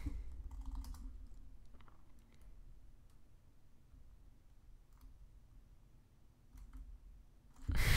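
Rapid clicking of typing on a computer keyboard during a Roblox game session, steady and fairly close, with irregular bursts of keystrokes over a low background hum and a louder thump at the very end.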